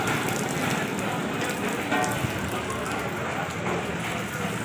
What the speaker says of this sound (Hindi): मैंने मेडिसिन वगैरह ले लिया और बारिश शुरू हो गई है।